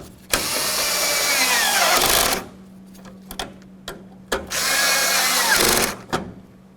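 A power driver runs marker light mounting bolts into a 1998-2011 Ford Ranger. Two loud, sustained whirring bursts of about two seconds each are heard close up, separated by short clicks and knocks of handling.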